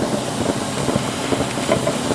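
Elk patties frying in a hot pan, crisping up with a steady close sizzle and hiss broken by small crackles and pops.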